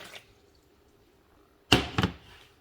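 Water poured into a brisket sauce base with white vinegar, a short splashing pour of under a second after near silence, close and fairly loud.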